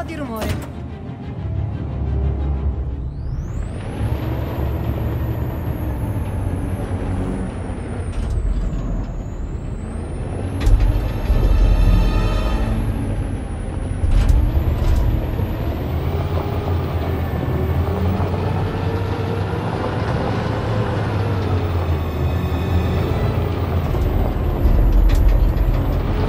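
A heavy truck engine in the video game Detroit: Become Human drones steadily with a low rumble, mechanical whine and rattling, revving up and down at times.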